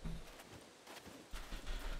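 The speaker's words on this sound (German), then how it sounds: "wieso ist hier eine Kuh jetzt, die mich abnervt, Mann?" Cow walking in the survival video game SCUM, its hooves giving a few soft clopping steps close by, with a low background hum.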